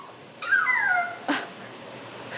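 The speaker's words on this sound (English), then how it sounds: "that's such a good howl." Young female puppy giving a short, wavering howl that rises and slides downward, followed by a brief sharp yip and then quiet breathing, close by and in an otherwise calm indoor room.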